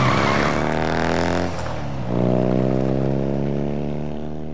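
A motorcycle engine in Uncharted 4 drones loud and steady in the foreground, its pitch dipping briefly midway before revving back up and holding.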